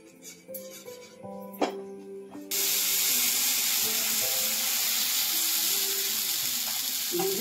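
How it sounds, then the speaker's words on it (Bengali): Oil brushed onto a hot pan for a Bengali tiffin dish gives a steady, fairly loud sizzling hiss that starts abruptly partway through and holds to the end, after a few light kitchen clinks and tones. "তেল দেওয়ার পরে একটু ব্রাশ করে নেব।"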